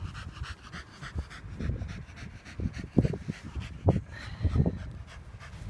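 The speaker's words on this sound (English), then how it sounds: "Tired doggy." A tired dog pants after playing fetch, quick rhythmic breaths close to the microphone with a few louder huffs, fairly quiet and heard on their own.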